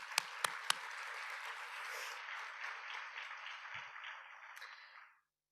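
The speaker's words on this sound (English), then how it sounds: "So can we just give a warm shout out and applause?" An audience gives a few sharp early claps that swell into sustained applause from a sizable crowd, then taper off and cut to silence near the end.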